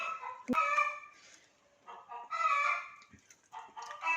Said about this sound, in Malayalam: കോഴികളിൽ ഭയങ്കര മേള അവിടെ